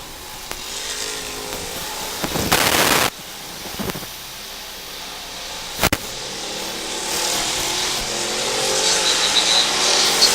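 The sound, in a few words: street stock race cars racing at dirt track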